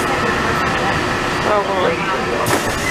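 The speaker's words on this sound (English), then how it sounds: "So we took the monorail to the Grand Floridian." Rumbling train-like hum of a Walt Disney World monorail ride heading to the Grand Floridian, a steady interior drone with a brief spoken exclamation over it.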